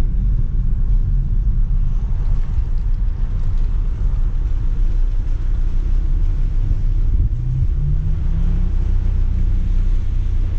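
An Audi TT RS with sport exhaust drones steadily while driving, a broad continuous low roar with road rumble, holding fairly even with a slight rise in pitch near the end.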